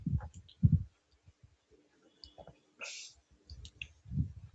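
A mouse button clicks on a computer during software automation work: a few sharp, close taps scattered among quiet pauses, with soft low thumps.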